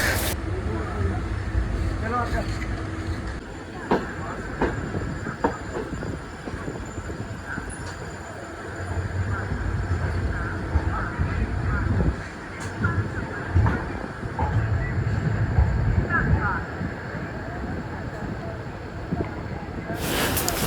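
Steady rumble and clatter of a moving, nearly empty passenger train in Punjab, India, with rhythmic rattling of the carriage and people talking intermittently over the noise.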